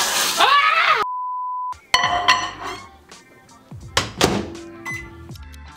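A microwave hums at a steady low pitch while cooking a keto pecan pie, after a few clunks and beeps, with door thuds and clinks around it.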